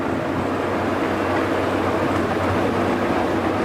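A continuous low rumble of a Disneyland train rolling along the track, steady and fairly loud throughout.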